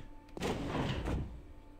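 A sliding door whooshes open in the Star Wars Jedi Knight: Mysteries of the Sith game on the Bespin Cloud City level, a single mechanical swish lasting about a second over quiet background hum.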